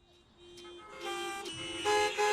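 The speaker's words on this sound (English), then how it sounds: "motorists, with their indiscriminate honking, are the main culprits" Car horns honking in Mumbai street traffic, overlapping toots and longer blasts building in loudness over the clip, with no one speaking.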